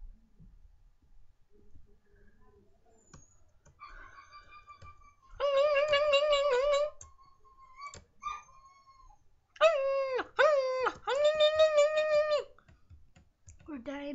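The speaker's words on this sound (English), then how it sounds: "those dogs are dying of starvation" Dogs whining in the video game Minecraft, several bursts of high pitched whimpering, loud and close with quiet gaps between them.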